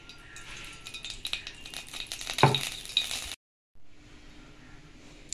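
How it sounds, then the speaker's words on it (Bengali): Oil is poured into a wok to start a sour crab curry, with clattering kitchen noise, a brief louder splash-like burst midway, a short silent gap and then a softer hiss. "আমি প্রথমে কড়াতে তেল দিয়ে"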